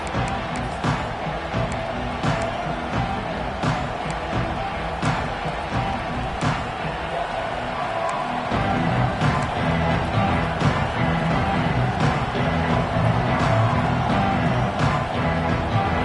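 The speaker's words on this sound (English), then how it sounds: "This crowd ready to make its presence known." Stadium crowd at an Eagles American football game, a steady roar of many voices that swells louder partway through, with scattered sharp claps and thuds.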